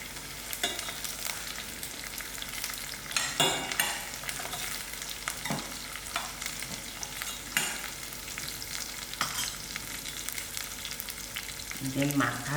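Cumin seeds, mustard seeds and green chilies fry in hot oil with a steady crackling sizzle, broken by sharp pops and a few scraping stirs spread across the stretch, with no talking.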